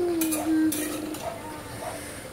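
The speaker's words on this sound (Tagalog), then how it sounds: "Konting halo-halo para hindi masunog yung ating adobong talong" Eggplant adobo being stirred in a pan, a close, brief scrape and clatter of a utensil against metal over a low sizzle, with a steady hum in the background.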